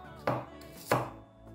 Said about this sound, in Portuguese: vou usar um tomate, eu vou picar aí um maço pequeno de salsinha, vou vir aqui com a cebolinha